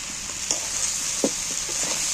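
Jackfruit curry sautéed in a pan, giving a loud continuous sizzle close by, broken by a few soft knocks of the stirring spoon.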